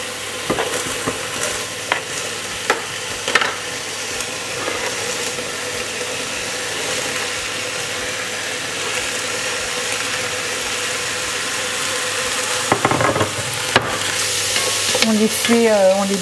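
Onions fry in meat juices in a pan for Flemish carbonade, a continuous close sizzle with frequent stirring scrapes and clinks, alone with no talk.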